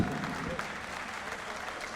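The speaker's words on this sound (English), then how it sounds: "give him a round of applause" An audience at a SMITE Masters esports Q&A applauds a player, a steady, moderately loud wash of clapping filling the whole moment.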